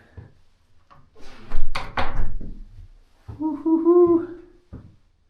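A cheap wooden outhouse door is pulled shut with a few close, loud thunks and a brief rattle, followed by a tonal creak. Quiet gaps open and close the sequence, and no one speaks.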